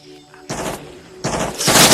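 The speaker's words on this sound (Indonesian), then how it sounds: "salah satu prajurit melepaskan tembakan setelah melihat pergerakan Viet Cong dari kejauhan" Bursts of soldiers' gunfire in a Vietnam War film battle scene, with several loud, sharp volleys in quick succession that build to a dense, heavy barrage at the end.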